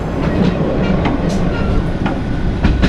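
A train rumbling steadily as it starts to move, with faint clickety-clack of wheels on rails, loud and close, heard from inside a carriage near an open door.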